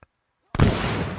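A grenade goes off in a video game after a tiny click and half a second of silence, bursting in one loud, close blast that rumbles and decays over the remaining moment.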